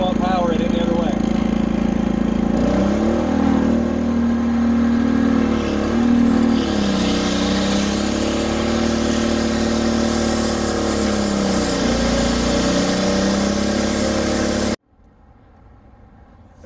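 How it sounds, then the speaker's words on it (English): A homemade alternator generator's engine running at full throttle, a loud steady droning hum with wavering pitch for about fifteen seconds, then cutting off abruptly to near silence. "I'm gonna have to go full throttle to run the grinder because it's got such high in-rush current."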